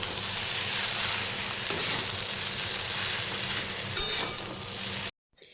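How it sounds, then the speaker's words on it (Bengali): Egg chowmein stir-fried street style with salt and sugar gives a loud, steady sizzle with scraping and tossing noises, a couple of sharper clanks, then a sudden cut to near silence at the end. "এবার আমি সব কিছুকে ভালো মতো মিশিয়ে নেব।"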